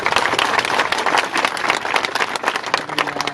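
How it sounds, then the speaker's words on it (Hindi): A crowd at a Jaipur protest rally claps together in dense, continuous applause, loud and close, with faint voices mixed in. "यदि मेरी बात आपको अच्छी लगी तो ताली बजाना।"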